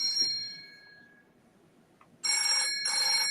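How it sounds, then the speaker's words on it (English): A mobile phone ringtone chirps briefly at the start, then after a quiet pause two loud electronic ringing bursts sound close by, with no talking. "my phone was on. I didn't mean for it to be."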